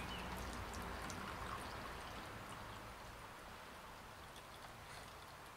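Milk thistle infusion poured through a coffee filter set in an ordinary strainer, giving a soft, continuous trickling hiss that stays even throughout with no talk.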